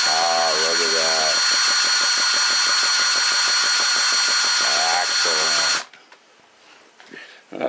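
An RC nitro car's electric starter spins the motor over in a loud, high, whirring buzz with rapid pulsing, lasting several seconds before cutting off abruptly into near silence.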